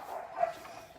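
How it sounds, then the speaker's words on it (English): Dogs fighting and barking at home, a single brief, muffled bark-like yelp in the distance, faint and quickly fading. "My dogs are fighting."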